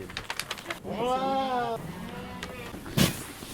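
Goats bleat with a rising, wavering cry in the middle of a goat-farm barn, a single clear call lasting under a second, surrounded by softer background calls, shuffling and faint voices nearby.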